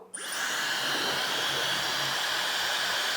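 A hair dryer drying a dog's fur switches on and runs with a loud, steady blowing whoosh, close by and uninterrupted.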